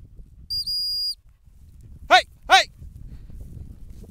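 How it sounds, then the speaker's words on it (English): Two short, sharp whistle blasts sound alone during basic sit and down training of dogs outdoors, following an earlier steady high tone; faint background rustle throughout. "try the whistle training again."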